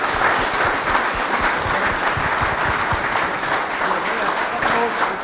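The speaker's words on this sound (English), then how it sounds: "So if you want one more time to give these gentlemen a round of applause" A football coaches' panel audience gives a sustained round of applause, dense clapping from a large crowd that keeps an even, loud texture throughout.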